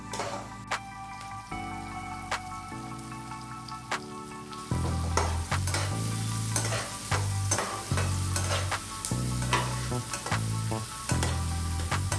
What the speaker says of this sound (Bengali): বাটার গলে যাওয়ার পর কেটে রাখা ক্যাপসিকাম এবং বেসিল দিয়ে 2 মিনিট ভেজে নেব